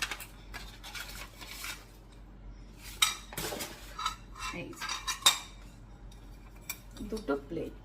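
Two ceramic plates in a home goods store clink and scrape as they are handled, giving scattered sharp chinks and knocks of varying loudness, close by, with occasional soft talking in the background.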